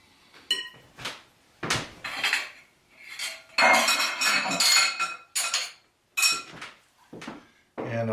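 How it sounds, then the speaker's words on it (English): Naturally leavened brioche dough is mixed by hand with leaven, milk and egg, giving close scraping, clinking and knocking against a bowl in irregular bursts with brief pauses. "I'll begin to mix the dough by turning the flour from the edge into the egg and the wet mixture."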